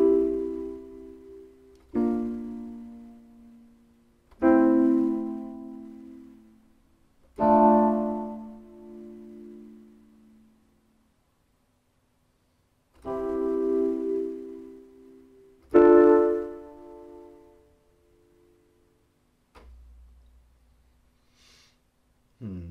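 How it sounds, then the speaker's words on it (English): Stock Rhodes Mark I electric piano preset from FL Studio's Flex Essential Pianos, with soft, warm chords struck one at a time, each ringing out and fading before the next, quiet and alone with no talking. "so I've selected this Rhodes E piano."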